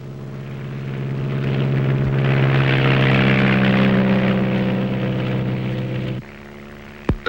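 Small propeller plane engine droning in flight, a loud steady buzzing hum that swells and holds before dropping abruptly to a lower tone near the end.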